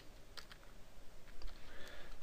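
Soft, quick keystrokes on a computer keyboard, a short run of faint clicks at close range with no talking.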